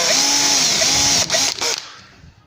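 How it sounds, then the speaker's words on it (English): A drill bores out a nail whose head was cut off in wood, a close, loud steady whine for over a second that stutters and then trails off to quiet. "I've cut the head off a nail and I'll drill it out"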